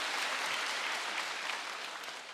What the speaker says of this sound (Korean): 우리 목사님께 다시 한번 박수 한번 주셔서 너무 감사합니다.